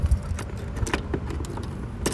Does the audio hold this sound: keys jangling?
yes